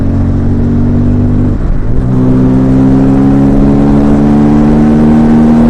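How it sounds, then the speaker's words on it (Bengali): Bajaj Pulsar N250 motorcycle engine droning loud and close at high speed, steady tones with a brief dip as it shifts gear, then climbing again under rushing wind. "তো চলো এই বাইকটা এখন আমি জোরে একটু চালাচ্ছি"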